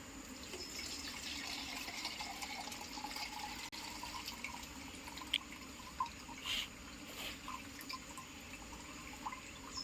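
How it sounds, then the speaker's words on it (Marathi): Fermented dashaparni plant extract strained through a sieve into a container, a faint steady trickle and drip of liquid with a few small splashes, quiet and close, without speech. "हे वापरण्यासाठी आपण याला अगोदर गाळणीच्या साह्याने गाळून घेऊ"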